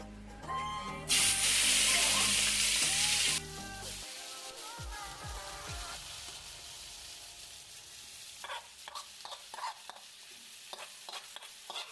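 Meat and oil in a kadai on a gas stove: a loud burst of sizzling and spraying hiss early on, then quieter frying with scattered clinks and stirring sounds.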